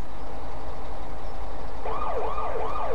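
Police sirens wail in Farming Simulator 17 over a steady engine drone, the wailing siren rising and falling repeatedly and coming in clearly during the latter half.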